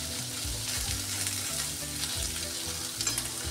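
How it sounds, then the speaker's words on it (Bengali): Paneer, 200 grams, frying lightly in hot soybean oil in a pan for palak paneer, giving a steady, close sizzle with small stirring scrapes throughout and no voices. "পনিরটা আমি হালকা ভাজবো,"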